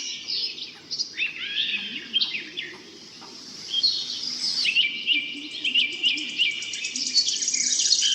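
A parrot guards its chicks at the nest, giving bright, high chirps and rapid chattering calls in bursts that build to a quick repeated trill, moderately close, over a faint, low background hum and no speech.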